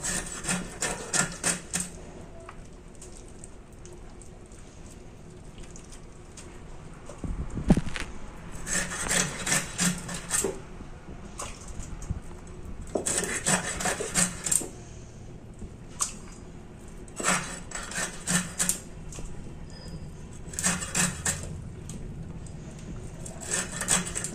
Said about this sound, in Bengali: তো দেখো এবার আমি মাথাটা কেটে নেব, পিস করব।